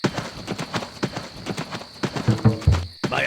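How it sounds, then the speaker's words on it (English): Horse hooves clip-clop in a steady trotting rhythm throughout, close and fairly loud, in the Empire Earth video game, ending with a few heavier thuds before a brief silence. "Lord William, here is a fine horse for you to ride into London."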